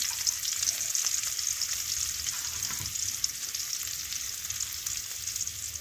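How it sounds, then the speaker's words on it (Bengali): Chopped onions sizzle and crackle in hot oil while cooking a goat tripe dish, a steady bright frying hiss with occasional stirring scrapes, close and continuous, no talking. "পেঁয়াজ কুচিগুলো এখন তেলের মধ্যে দিয়ে দিলাম"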